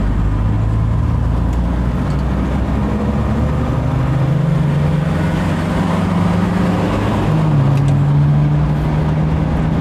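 Inside a 1967 Audi 80 Variant under throttle, the engine drones steadily and loudly, its pitch slowly rising as the car accelerates, with constant road rumble and no talk.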